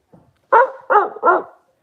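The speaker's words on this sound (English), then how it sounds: "Even Luna, me dog, look" A pet dog barks three times close by, the loud, even barks coming in quick succession after a faint, short whimper, with no talking.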